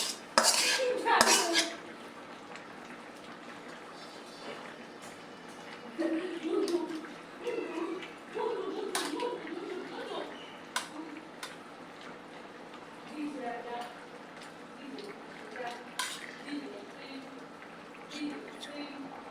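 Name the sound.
pangas fish and malabar spinach cooking in pot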